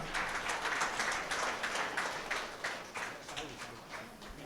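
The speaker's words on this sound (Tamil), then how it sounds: "நல்ல ஒரு கரகோஷம் கொடுக்கலாம்" Steady applause from a crowd at a book launch ceremony, a dense wash of clapping that holds at an even level throughout without fading.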